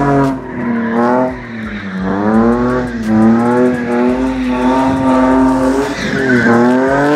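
Loud tire squeal from a car drifting at a Bimmerfest 2023 event at Mandalika, Indonesia, with wavering skids rising and falling over a steady engine roar, continuous and close throughout.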